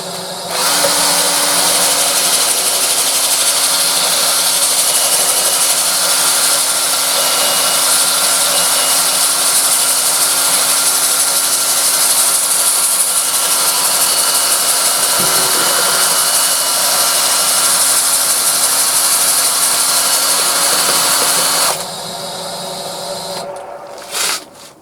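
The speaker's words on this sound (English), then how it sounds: "I'm in reverse at the moment, and I'm going to use an 80 grit, there you go, an 80 grit disc." A wooden bowl sanded with an 80 grit disc on a lathe running in reverse gives a loud, steady, broadband whoosh and hiss that goes on without a break, then stops abruptly near the end.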